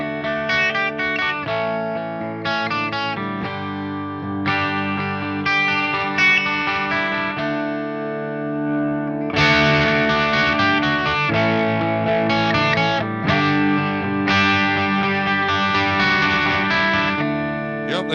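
Dean Z 79 electric guitar with hot pickups played through heavy distortion: loud, sustained overdriven chords and riffs that continue without pause, growing fuller and more aggressive after the midpoint.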